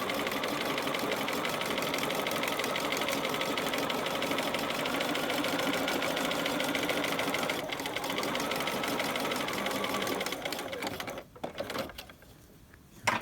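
A sewing machine runs steadily for about ten seconds, stitching piping and a bias facing in one continuous close whir, then slows and stops with a few faint clicks.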